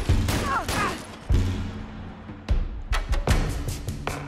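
Several gunshots from a firearm in Fallout: London, sharp separate cracks spaced out over a few seconds, fairly close. A bit of faint talk comes in between the shots.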